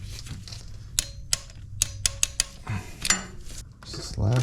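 Torque wrench clicking while tightening spark plugs on a 2015 GMC Sierra 5.3L engine: a series of sharp metallic clicks and ticks, several in quick succession, close up with faint handling noise in between.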